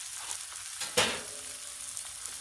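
Halibut fillets frying on a Blackstone griddle just after flipping, a steady close sizzle with a brief sharp burst of spitting near the start.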